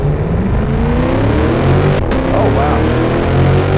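A C8 Corvette driven hard up Pikes Peak, its engine a loud, dense, continuous roar revving high from inside the cabin, with a brief exclamation from a voice over it.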